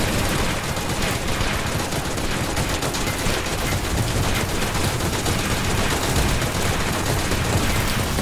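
Rapid, dense gunfire from towers in Tower Defense Simulator, a continuous loud barrage of overlapping shots with no pauses.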